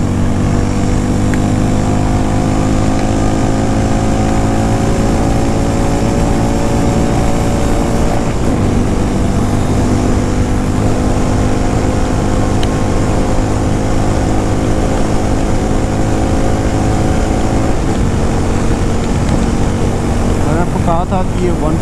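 A Harley-Davidson X440 cruiser motorcycle engine drones loud and continuous under hard acceleration on the road, with wind rush and a steady rising engine note that never lets up.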